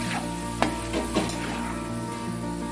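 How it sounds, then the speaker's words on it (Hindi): Onions salted and frying toward golden in a pan give off a dense, steady sizzle, close up, with a couple of faint stirring knocks and no talking. "तो देखिए हमारे ऑनियन फ्राई हो चुके हैं।"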